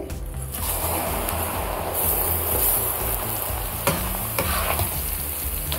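Poha (flattened rice, chura) dropped into hot oil for namkeen, giving a loud, dense, steady sizzle and crackle throughout with a few sharper pops near the end, no talking.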